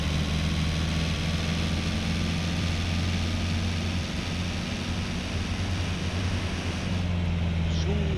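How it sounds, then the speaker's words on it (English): An airplane drones steadily overhead in the video game SCUM. Its low engine hum holds constant and loud throughout, with a faint voice under it. "Oh, there's a plane there."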